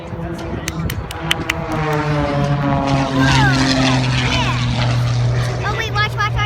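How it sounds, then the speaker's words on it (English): Low-flying propeller airplane at a Fourth of July air show in Addison, Texas, its droning engine rising and shifting in pitch as it passes close overhead, with spectators talking nearby throughout. "It's a low plane."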